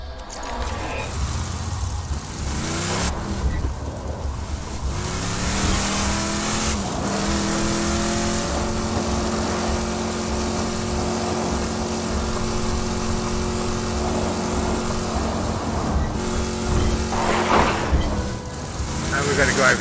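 A car being driven in Borderlands 2 VR, its steady engine drone running throughout with brief tire squeals and revving surges, while a person talks over it.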